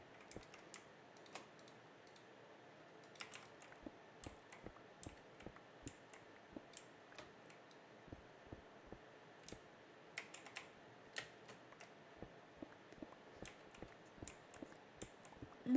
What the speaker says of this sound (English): Whoa, was that Lala typing?